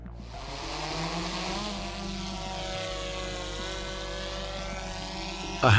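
An attack drone carrying powerful explosives flies toward a house used as an ammunition warehouse, its steady propeller buzz loud and continuous throughout, with a sharp louder burst at the very end.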